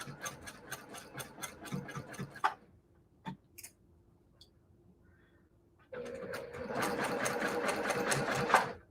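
A sewing machine stitches across the crossing seams of a quilt block, its rapid mechanical chatter running steadily and close, then stopping for a few seconds of near silence with a faint hum and a click before resuming louder.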